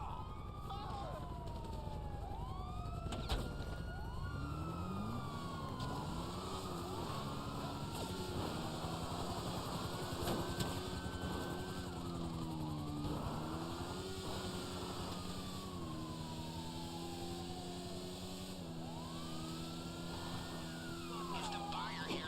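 Police car sirens in the video game GTA Online, several overlapping wailing and yelping tones sweeping up and down continuously, with engine rumble and a voice talking over them.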